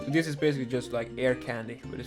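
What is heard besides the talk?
None of the usual background noises is heard.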